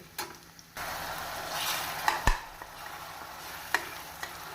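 Ground masala is stirred and sautéed with onions in a pan for mutton curry, a soft sizzle under scraping spatula strokes and occasional light clinks against the pan.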